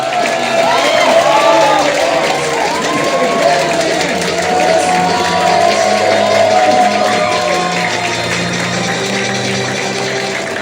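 A crowd at a founders night event applauds and cheers, with dense clapping, shouts and whoops sustained loudly for about ten seconds.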